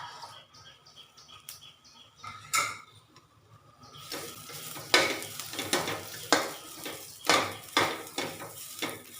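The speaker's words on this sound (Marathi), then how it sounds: "मिरच्या यात भाजून घेते" Green chillies cut into pieces sizzle and pop on a hot tawa, with clinks and scrapes as they are stirred and tossed, the crackling growing busier and louder partway through.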